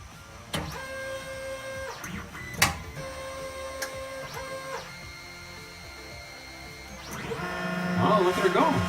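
An enclosed 3D printer printing PLA whirs as its stepper motors sing rising and falling tones in short bursts, close and moderately loud, with a brief clunk and busier motor noise near the end.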